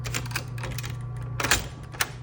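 A 1960s Smith Corona Coronet manual typewriter has its tab clear key pressed, giving several sharp mechanical clicks and clacks over a low steady hum.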